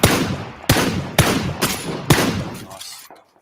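Sharp video-game gunfire from a shotgun or assault rifle: five or six loud, separate blasts at uneven intervals, each with a brief decaying tail, close and alone before fading to quiet.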